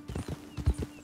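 Horse hooves in Red Dead Redemption 2, a quick run of soft clip-clop footfalls in a steady trotting rhythm, fairly faint over a low hum.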